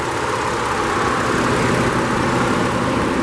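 Ford 3.5-liter EcoBoost V6 in a 2013 F-150 King Ranch 4WD idling steadily up close, a continuous, even engine drone with no talk and no change in pitch.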